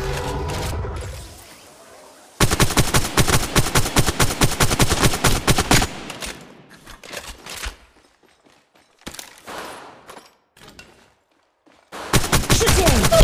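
Bursts of automatic gunfire from an Apex Legends Mobile match: a dense, rapid volley of close shots lasting several seconds, then a few scattered shots and quieter gaps, ending with another loud burst.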